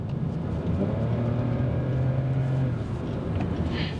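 A BMW 5 Series engine hums steadily from inside the car while driving on a slow local road, its low drone shifting pitch partway through as it changes gear smoothly, with no talking.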